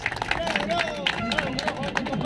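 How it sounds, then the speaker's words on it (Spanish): A crowd at a street mobilization claps for a teacher. Brisk, scattered clapping with crowd hubbub runs under a voice speaking over a loudspeaker. "Fuertes palmas para el docente Jorge Vargas."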